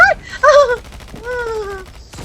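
Gunfire in Call of Duty Mobile crackles as a rapid, steady burst in the second half, following loud groaning, wail-like game sounds at the start.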